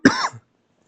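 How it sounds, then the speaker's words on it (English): A single short, sharp human cough, close and loud, followed by a brief throaty tail and then silence. "Actually, I am having the cough, like serious it is."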